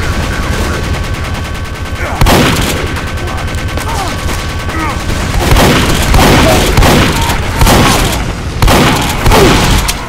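Repeated heavy booming shots from the Vindaloo cannon in the Team Fortress 2 video game, loud punchy blasts arriving in irregular bursts amid battle noise, with a voice speaking faintly in places.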